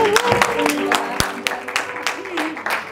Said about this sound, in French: on va applaudir avant qu'elle vienne.